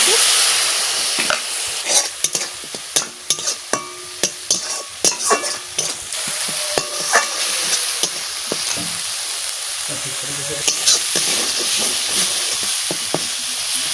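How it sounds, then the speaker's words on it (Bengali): A spoon scrapes and stirs steadily in a hot pan over a constant loud sizzle of spice paste frying, with repeated sharp knocks against the metal. "মশলা ভালো করে ভাজা হয়ে গেছে"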